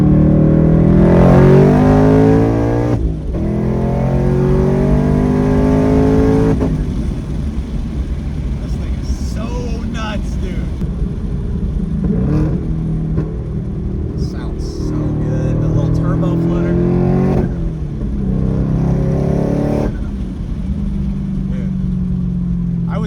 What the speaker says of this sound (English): we're gonna start in second, shift to third, no lift shift